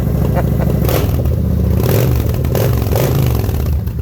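A 2012 Kawasaki Vulcan 900 Classic SE cruiser motorcycle engine runs loud and near, revving up and down a few times with a throaty, rattling exhaust note.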